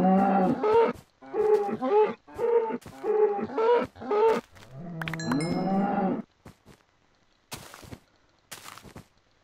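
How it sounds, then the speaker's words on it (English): Cows in the Minecraft video game moo in a series of short, loud, nasal calls, about seven in quick succession, followed by a few sparse clicks and faint sounds near the end. "Cow."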